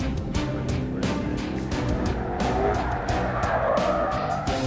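A Ford Mustang drifts with its tires skidding and squealing in sustained bursts. Engine roar runs steadily underneath, and the sound stays close and loud throughout.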